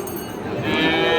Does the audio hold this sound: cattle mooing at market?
yes